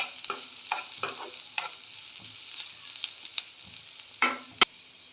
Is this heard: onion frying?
yes